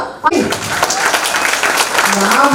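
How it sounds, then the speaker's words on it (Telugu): A wedding audience breaks into loud, dense applause that fills the room throughout, with a voice heard at the start. "ఎవరి పేరుతో నాకు ఎంత గట్టిగా చప్పట్లు వినపడతాయో"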